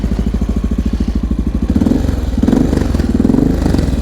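Honda XR650L single-cylinder motorcycle engine fitted with a Lex exhaust, idling with a steady low thumping pulse that rises into a few revs, close and loud, on a snowy ride through New York City streets.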